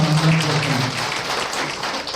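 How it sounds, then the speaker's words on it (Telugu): Audience applause fills a council hall during a Ramzan arrangements review meeting, a steady wash of many hands clapping for about two seconds, moderately loud and even, with a low hum underneath. "ప్రత్యేకంగా చప్పట్లతో ధన్యవాదాలు తెలపాల్సిందిగా"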